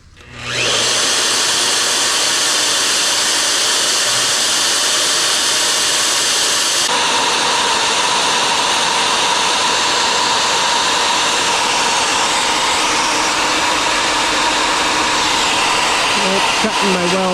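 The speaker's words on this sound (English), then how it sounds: "Time to try cutting through our weld collection." A power tool grinds through a weld on the arm end of a Bobcat T200 skid steer, a loud, steady high-pitched whine running continuously from the start with a slight shift in tone partway through, alone without talk.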